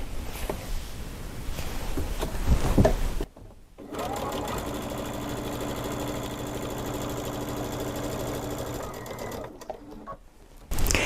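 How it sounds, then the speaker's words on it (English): A sewing machine stitches a fancy pieced quilt binding in a fast, rhythmic mechanical chatter, close and loud, with a brief pause partway through before running again. "I'm going to sew the rest of this binding on"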